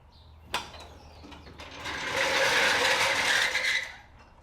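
A ratchet strap is cranked tight to pull down the suspension of a 2JZ-swapped BMW E36. A sharp click leads into a loud, sustained rasping buzz of rapid ratcheting that lasts a couple of seconds and then fades, with no talk.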